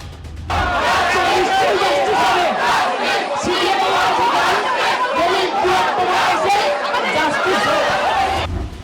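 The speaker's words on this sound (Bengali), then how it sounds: "মুখ্যমন্ত্রীর কথার মধ্যেই বেশ কয়েকবার জাস্টিস চেয়ে স্লোগান ওঠে" A large protest crowd at Kalighat chants 'Justice for RG Kar' slogans during the Chief Minister's visit, a loud, sustained roar of massed voices with rhythmic shouting that continues without pause.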